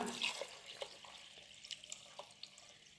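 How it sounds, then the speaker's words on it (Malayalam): A cup of water is poured into a mixed matta rice and coconut blend in a pressure cooker, a faint, close trickle with a few light drips. "ഇനി നമുക്കിതിലേക്ക് ഒരു കപ്പ് വെള്ളം ഒഴിച്ച് കൊടുക്കാം"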